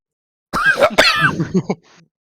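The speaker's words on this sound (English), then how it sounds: "It's totally not why I'm coughing right now." A short burst of a couple of harsh coughs, close and fairly loud, trailing off into a brief quiet breath.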